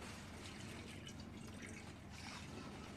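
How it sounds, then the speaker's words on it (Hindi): Half a litre of milk pours into a kadhai in a home kitchen, a faint, steady liquid stream that runs continuously without any talking. "आधा लीटर दूध डाल देंगे।"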